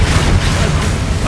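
A loud, dense spell blast booms in Hogwarts Legacy during a wizard duel, a heavy explosive rumble filling the short moment without pause.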